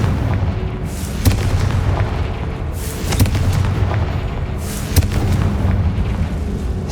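In Hogwarts Legacy, a Confringo spell blasts with loud booming explosions, three heavy bursts about two seconds apart over a steady rumbling game background.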